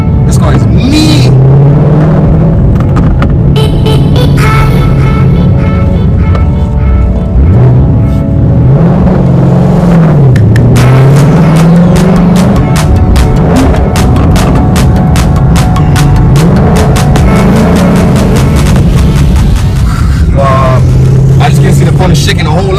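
A 2014 Ford Mustang GT 5.0 fitted with a nitrous system accelerates on a bumpy road. Its loud, throbbing engine rises and falls in pitch through repeated pulls, with someone talking excitedly over the engine throughout.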